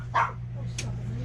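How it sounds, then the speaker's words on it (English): A dog gives one short bark, followed by a higher yip, indoors over a steady fan hum, with a person's voice nearby. "I don't know what they're barking at."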